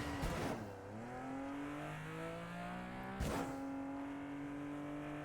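A car in Fortnite backing up, its engine note drawing steady rising and falling tones, with two sharp bursts of revving or impact, one early and one near the middle, the rest a smooth continuous hum.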